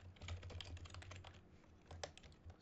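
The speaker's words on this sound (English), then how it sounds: "Sorry for the keyboard noise." Rapid computer keyboard typing close to the microphone, a quick irregular patter of key clicks with no talking.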